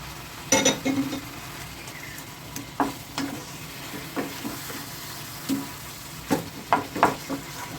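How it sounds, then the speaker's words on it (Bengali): Lightly fried chicken pieces go into a pot of cooked masala and get stirred, giving a soft frying sizzle punctuated by repeated distinct spoon scrapes and knocks against the cookware. "এই যে হালকা করে ভেজে রেখেছি চিকেনটা এই চিকেনের পিসগুলো আবার এর মধ্যে আমি দিয়ে দিচ্ছি"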